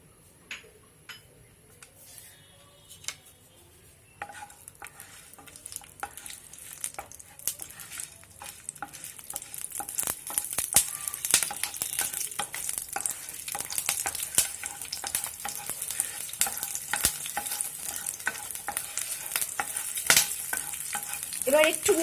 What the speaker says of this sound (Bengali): কাঁচা লঙ্কা ফোড়ন দেওয়া হচ্ছে